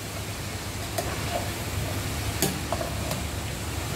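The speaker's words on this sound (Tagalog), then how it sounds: "Inahalo lang natin guys." Sprouted mung beans being stirred in a frying pan, a steady soft sizzle under scattered scraping and clicking strokes of a utensil against the pan.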